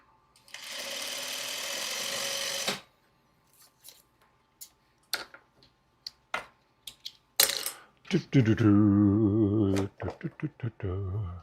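A sewing machine stitches two fabric squares together. A steady mechanical whir runs for a few seconds, then scattered clicks and taps follow, and a second stretch of humming stitching ends in short pulsing bursts.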